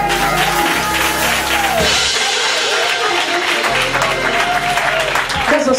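A congregation claps along at a praise gathering, steady loud clapping mixed with music and singing voices throughout.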